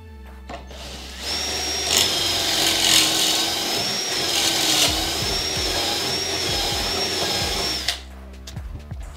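A power drill whines steadily for several seconds as it bores through OSB board, then stops, leaving a few light knocks.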